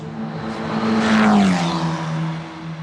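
A Euro 4 Championship race car sweeps past at Mugello circuit, its engine note rising as it approaches, then dropping in pitch as it pulls away. One loud, close pass with no voices.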